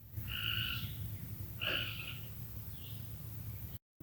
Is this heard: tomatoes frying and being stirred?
no